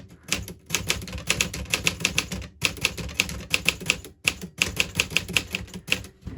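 A Smith Corona typewriter being typed on, with quick runs of crisp mechanical keystrokes broken by brief pauses, close and clear with no talking.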